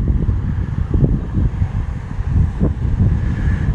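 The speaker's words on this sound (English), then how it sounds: "Northeast wind, probably like 3 to 8." Steady northeast wind at a fishing beach rumbles into the microphone as a continuous low roar with gusty swells, loud and close throughout, with no voices.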